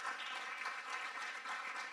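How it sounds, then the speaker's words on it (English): Faint, steady crowd applause from an audience at a mridangam arangetram, an even patter of many hands that continues without pause. "huge round of applause"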